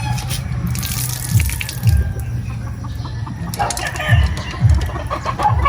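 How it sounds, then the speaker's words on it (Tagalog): Lukewarm water drains in a steady, close rushing stream, while chickens cluck and crow intermittently in the background. "maligamgam na yung tubig, di-drain na natin"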